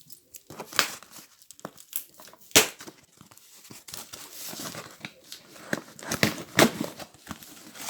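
A parcel package with bubble wrap is opened by hand, close crinkling and tearing of plastic and cardboard in irregular bursts, loud near the microphone with no talk.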